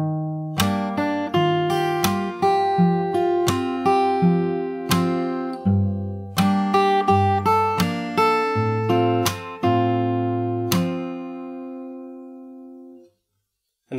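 Solo fingerstyle acoustic guitar playing the third part of a song's chorus, with plucked melody notes, bass and occasional sharp slaps at a moderate, steady pace, close and clear, ending on a ringing chord.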